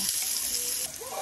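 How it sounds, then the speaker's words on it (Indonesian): Ginger fries in hot oil with a soft, continuous sizzle close by, fairly quiet, dipping briefly near the end before resuming. "Kita mau goreng jahenya dulu."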